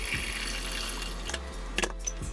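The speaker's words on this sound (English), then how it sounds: "I'm gonna pour some water in here" Tap water running steadily into a cooking pot in a home kitchen, a constant close hiss and splash with no voices.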